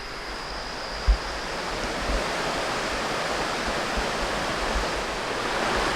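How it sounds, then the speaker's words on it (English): Steady broadband rush of a river flowing beside a campsite in the Citico Creek Wilderness, constant and fairly close, with no voices. "It's right near the river."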